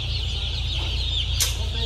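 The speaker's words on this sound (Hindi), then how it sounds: "हाँ जी, 102 चूजे एक टोकरी से" Chicks in a basket at a poultry control shed, a batch of around a hundred, giving a constant dense chorus of high peeping and cheeping, close and steady, with a brief louder chirp near the end.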